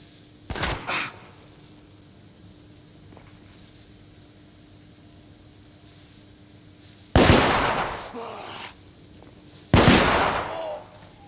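Three separated loud blasts of gunfire in the video game The Order: 1886, one early and two later bursts with ringing tails over a quiet hum between them.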